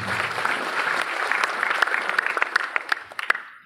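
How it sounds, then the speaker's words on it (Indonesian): A church congregation claps steadily, the applause thinning out toward the end into scattered individual claps. "Beri tepuk tangan"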